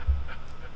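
An old Rottweiler pants briefly close by, a short burst of quick breathy huffs with a low thump at the start, no voices.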